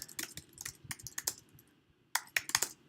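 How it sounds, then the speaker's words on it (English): Typing on a computer keyboard, close up: quick clusters of crisp key clicks in irregular bursts, with a short pause before a final flurry of keystrokes. "I'm going to type it now"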